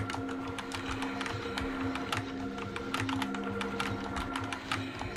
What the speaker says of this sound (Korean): 키보드 불나겠네